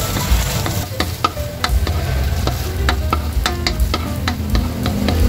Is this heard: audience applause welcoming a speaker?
no